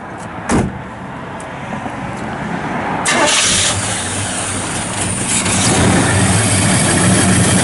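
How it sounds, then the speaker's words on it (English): A 1972 Chevrolet Nova SS with a 350 V8 is started after a car door thud: the starter cranks briefly, then the engine fires and holds a steady, rumbling idle nearby. "Fires right up, nice."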